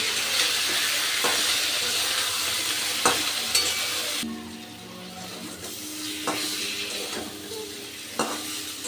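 Vegetables with chilli powder, salt and spices being stir-fried for a tilapia oil-jhal curry, a steady sizzle and hiss under repeated scrapes and clinks of a spatula against the pan, fairly close, with a quieter stretch midway.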